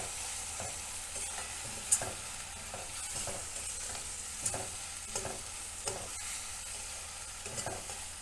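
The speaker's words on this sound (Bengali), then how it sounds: "টমেটোটা দিয়ে ভালো করে আমি নাড়াচাড়া করে নেব।" Tomato paste stirred into fried onions in a pan, a continuous bright frying sizzle under a regular rhythm of spatula scrapes against the pan, near and steady throughout, nobody speaking.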